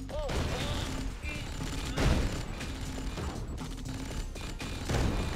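Battle gunfire from units under attack in Command & Conquer: Red Alert 2, a dense, continuous crackle of shots and mechanical clatter with heavier thumps near 2 and 5 seconds, steady and loud throughout.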